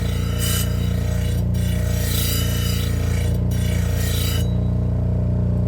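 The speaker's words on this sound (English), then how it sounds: "So what we're really doing is we're just buffing and polishing those side walls for looks." A half-speed bench grinder running at 1750 RPM buffs and polishes the side walls of a badly damaged Dalstrong knife: a loud, steady motor drone with repeated rasping bursts as the blade is pressed to the wheel.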